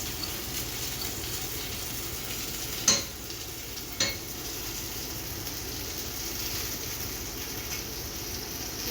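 Chicken lemon frying in a pan in a home kitchen, a steady low sizzle with faint stirring and two brief sharp clinks of a utensil against the pan.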